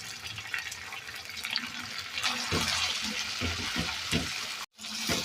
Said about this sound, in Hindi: अब हम इसमें डाल रहे हैं मसाले सारे।